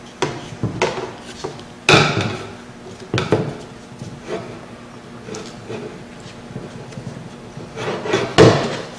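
A stair layout jig being clamped onto a wooden stair stringer in a woodworking setting gives a series of close, sharp wooden knocks and clacks with light rubbing between them, loudest near the start and end, with no talk.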